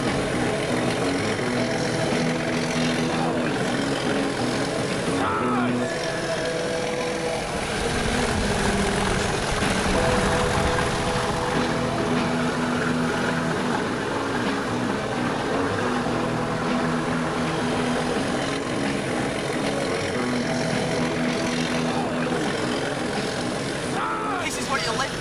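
A single diesel locomotive engine pulling a train labors loudly and continuously for the whole stretch, a rough droning thrash that rises slightly midway, with voices faintly underneath.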